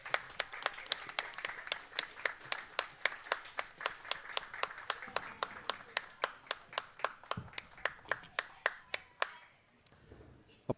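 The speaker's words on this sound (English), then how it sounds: "Applause for the teams from Sheet B coming off the ice." Evenly spaced, distinct rhythmic claps ring out in a curling rink as junior bonspiel teams leave the ice, roughly three per second, fairly quiet and echoey, stopping near the end with a faint shuffle.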